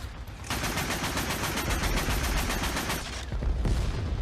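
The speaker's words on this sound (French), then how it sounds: "Alors qui me tire quelqu'un me tire dessus." Rapid automatic gunfire in IL-2 Sturmovik: Battle of Stalingrad, played in VR with an Sd.Kfz. 10 half-track and Flak 38 gun, as a fast continuous burst of shots lasting about two and a half seconds, then a brief pause and a short final burst.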